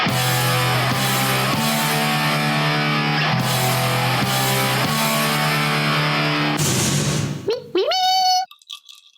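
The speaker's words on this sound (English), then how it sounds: "Oh, do you hear that? Hear that jingle there" A bright, catchy podcast intro jingle plays steadily with a sustained melody, ending in a quick rising flourish before cutting to silence.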